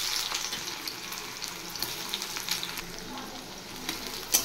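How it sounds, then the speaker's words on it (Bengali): Chopped onion hitting hot oil in a wok gives a steady bright sizzle, with short bursts of crackle as the pieces are stirred, close and fairly quiet, with no talking. "তেল গরম হয়ে গেছে, এবার আমি দিয়ে দিচ্ছি কুচিয়ে রাখা পেঁয়াজ।"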